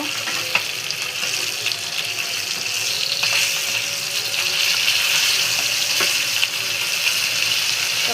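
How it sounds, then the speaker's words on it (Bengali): Tatkini fish frying in a pan, a steady close sizzle and crackle running throughout, with a few small clinks and no speech. "মশমশা করে ভাজা নেব মাছটা।"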